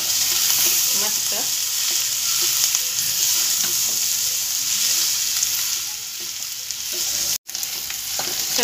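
Mutton sizzles steadily in a hot pan for a village-style mutton rakti dish, a loud continuous frying hiss close up, with soft stirring scrapes and clinks throughout.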